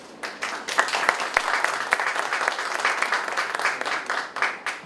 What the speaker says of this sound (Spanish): nosotros la escuchamos y la recibimos con un aplauso